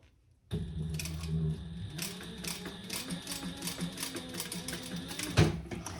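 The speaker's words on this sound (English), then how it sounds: "this faux leather from Simply Classic sews beautifully" A sewing machine stitches Simply Classic faux leather for a crossbody bag, starting abruptly and running in a steady rapid whirring patter for several seconds with a clunk near the end, close and alone.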